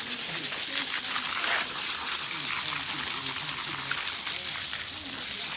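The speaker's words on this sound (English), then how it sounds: "we rinse out the roots to get all the soil out" Water rinses soil from the roots of a twisted pomegranate being prepared for bonsai, a steady close splashing and trickling stream throughout, with a person talking underneath.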